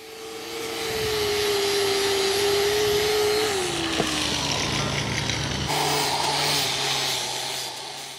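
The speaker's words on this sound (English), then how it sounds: "Now we're going to take the same flap disc that we used to finish up the tongue." An angle grinder fitted with a flap disc whines steadily and loudly while stripping paint from a heavy duty trailer jack, its pitch dipping partway through as the disc bites, then settling into a rougher, heavier grind with no voices.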